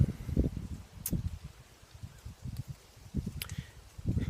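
Gusty outdoor wind buffets in uneven surges, low rumbling bursts rising and falling over a few seconds, loud and close like air hitting a nearby microphone, with no voices.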